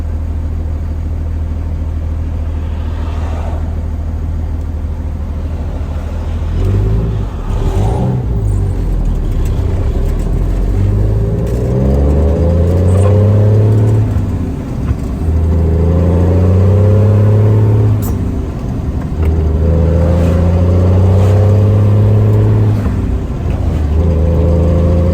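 Cabover truck fitted with a muffler, its engine droning loud and close while driving, with repeated rising and falling pitch as it revs up through gears, under constant road rumble and no talk.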